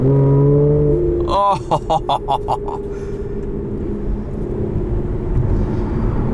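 A 2014 Aston Martin Vanquish engine rises in a loud rev with its exhaust valves opening, then settles into a deep rumble heard from inside the cabin as a voice briefly exclaims.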